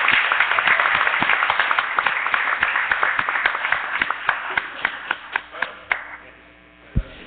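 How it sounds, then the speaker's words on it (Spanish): An audience applauds with steady clapping that thins out to a few scattered claps and fades, over a constant mains hum. "Un aplauso a ellos."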